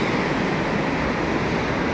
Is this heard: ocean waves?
yes